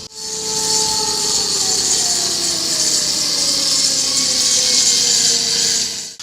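A steady, loud high-pitched grinding whine runs continuously throughout, a power grinder smoothing a concrete base, with no talking.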